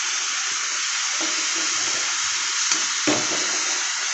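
Ginger-garlic paste fries in a hot pan with a steady broadband sizzle, and faint scrapes and taps from stirring sound at a couple of points.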